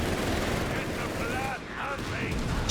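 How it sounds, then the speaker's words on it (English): Mortar and gunfire in the Company of Heroes 3 battle, dense rumbling shots and blasts layered with a steady din, with a voice talking over the top throughout. "Mortar firing down death here"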